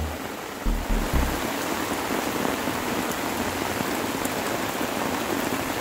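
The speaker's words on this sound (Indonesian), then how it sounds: "Hujan deras." Heavy rain pours down steadily during a storm at a fishing spot in Sembayat, Gresik, a dense, loud hiss of drops hitting surfaces, with a couple of low thumps at the start.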